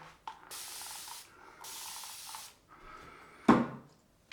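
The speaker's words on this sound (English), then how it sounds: "Let's get on some more water." Water sprays in two long hissing bursts from a tap, then a brief splash as a shaving brush is wetted for lathering a Razorock Hawk V3 shave, close up in a quiet bathroom.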